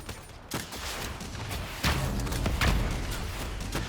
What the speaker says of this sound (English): I'm getting peppered with explosions. I can hear them all going off.